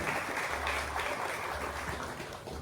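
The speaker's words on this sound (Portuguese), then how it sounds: "Salve de palmas para ele." Audience applauding a priest at a community discussion gathering, a steady wash of clapping from a crowd, with a low hum underneath.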